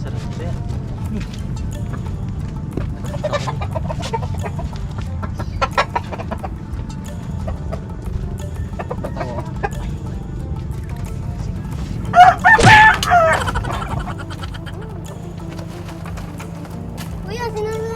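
Chicken rooster crowing once loudly near the middle of the clip amid scattered clucking, with people talking throughout and a low background hum.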